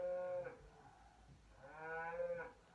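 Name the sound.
cow mooing nearby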